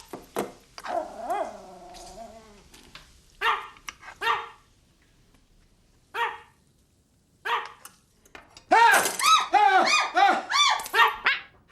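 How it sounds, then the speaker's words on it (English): Little puppy barking and yipping in a series of sharp, close barks, with quiet gaps between bursts and a rapid flurry of barks near the end. "Look at that dog."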